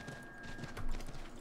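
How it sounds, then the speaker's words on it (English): Horse galloping in Assassin's Creed III, a quick run of hoof clip-clops under game music and ambience, close and moderately loud for a brief stretch. "Go, horse. Go!"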